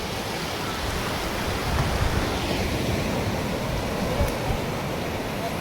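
Sea waves break at a beach in a continuous broad wash of surf, with slight swells in loudness and a faint sense of voices under the steady roar.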